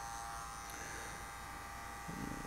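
Electric hair clipper cutting hair in a barbershop, a steady high buzz that holds throughout and roughens near the end as it meets hair.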